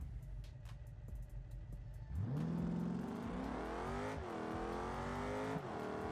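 A 2,200 kg Porsche Cayenne SUV launches hard from 0 to 100 km/h, its engine surging loud and close after a brief idle, climbing in rising revs through several gear changes.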